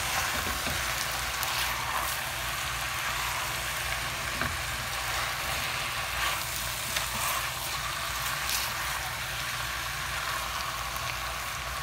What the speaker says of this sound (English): I'm going to saute the meat until golden for about 5–10 minutes